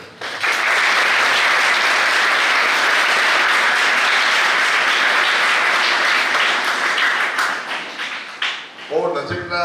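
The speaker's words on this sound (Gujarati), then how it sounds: "તમારા તાળીઓ થઈ જાય" Audience applause at a Gujarati school event, a dense, loud wash of clapping that holds steady for most of the stretch before breaking up into scattered claps as a voice starts near the end.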